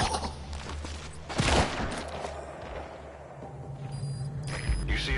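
Bursts of gunfire and booming shots from a war-themed video game fill the scene, with one sharp, loud blast standing out near the middle over a steady background rumble.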